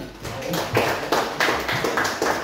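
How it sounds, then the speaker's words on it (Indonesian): A small class in an Indonesian lesson claps together in a short round of applause, a few rhythmic bursts of hand claps, moderately loud and close, with no talk over them. "terima kasih, tepuk tangan"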